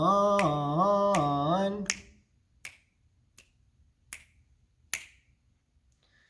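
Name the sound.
finger snaps keeping a four-beat pulse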